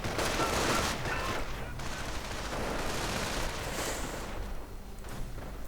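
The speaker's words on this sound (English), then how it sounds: "Although one squad is already taking intense fire." Dense, continuous gunfire and rattling machine guns pour down on an infantry squad in a World War II strategy game, a loud, unbroken fusillade with thumping hits mixed in.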